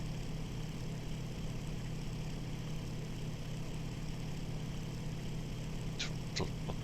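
In the video game IL-2 Sturmovik, the engine of a Bf-109F-2 aircraft idles with a steady, low, droning hum, continuous and even throughout, with a couple of faint clicks near the end.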